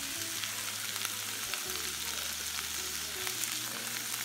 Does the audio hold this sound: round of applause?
no